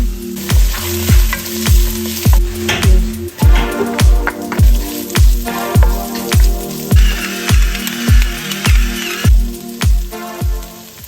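Garlic frying in hot cooking oil under a strong, loud sizzle, punctuated by a steady series of rhythmic low thumps, roughly two per second, throughout.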